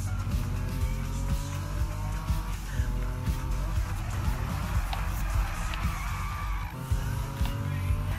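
A car races in the Need for Speed video game, its engine droning loudly and shifting pitch as it speeds up, with tire squeals and skids throughout and no talking.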